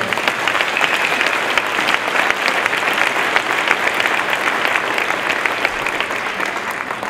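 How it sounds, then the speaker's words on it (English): A seminar audience at a bodybuilding event gives a loud, continuous round of applause, dense overlapping clapping that holds steady throughout without pause. "first and foremost, give a round of applause to Wida and Robin Chan and all the staff"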